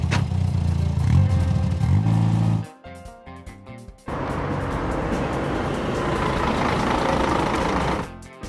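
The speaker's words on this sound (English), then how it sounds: "Auto transport truck." Cartoon auto transport truck driving, a loud engine hum with rising revs that cuts out briefly, then returns as a rough steady rumble and clatter.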